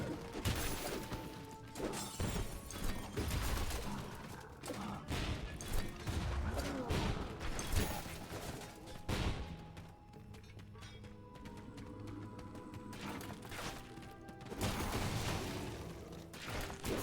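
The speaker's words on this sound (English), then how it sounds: "They drop their grenades." Grenades exploding in the video game Knack, a dense run of crashes, thuds and bursts over continuous game noise and music, with some muffled talk in the mix.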